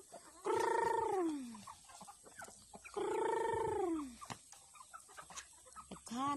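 Chickens in a garden give two long, loud drawn-out calls with harmonics, followed by scattered short clucks and a brief call rising again at the end.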